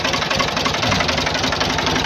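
A 65 hp farm tractor engine runs steadily during a system test, its dense, continuous rumble close and loud for the full two seconds with no talking over it.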